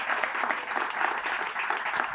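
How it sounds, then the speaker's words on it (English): Audience at an annual community meeting applauds for an honoree, a steady close wash of many hands clapping with no talk over it. "Give a round of applause for Mackenzie Wright, everyone"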